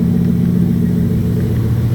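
A 2002 Jeep Grand Cherokee 4.7 engine, previously plagued by a melting coil and misfire, now running smoothly with a loud, steady, even idle hum close by, with no talking.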